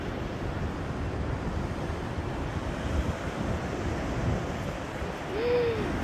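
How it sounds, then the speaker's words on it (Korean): Sea waves roll onto a shore below a rest stop on the coast, a steady, broad wash of surf mixed with wind rumble that continues throughout. "바다 또 밀려온다. 넘실넘실."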